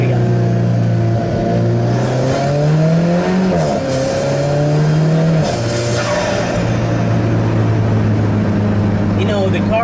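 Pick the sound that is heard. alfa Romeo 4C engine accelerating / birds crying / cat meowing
alfa Romeo 4C engine accelerating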